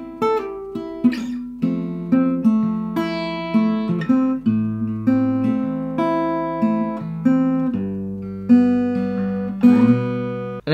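Acoustic guitar plays a song, fingerpicked chords ringing out one after another in an even rhythm, close-miked and unaccompanied, with no one speaking.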